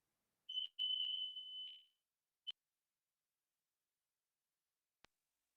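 An indoor alarm gives a piercing high electronic beep of about a second and a half, then a brief chirp and a faint click, in an otherwise silent room.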